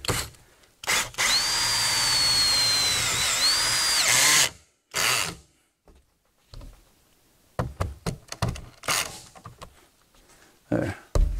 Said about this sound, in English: Now we're going to finish up drill and tapping this screw here.